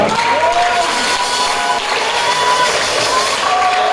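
Worshippers at a church service keep up continuous clapping and cheering acclamations, a full, even roar of hands and voices with some shouts standing out.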